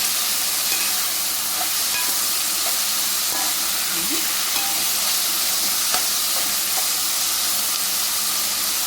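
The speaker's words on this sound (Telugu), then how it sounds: "ఇలా వేసి కాస్త వేగనివ్వాలి." Flat beans (chikkudu) frying with salt in a pan give a constant close hiss and sizzle, with faint scrapes of stirring now and then, and no one speaking.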